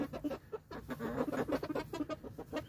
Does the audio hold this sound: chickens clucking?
yes